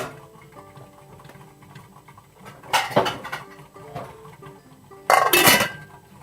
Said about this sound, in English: I'm going to cover it with the lid.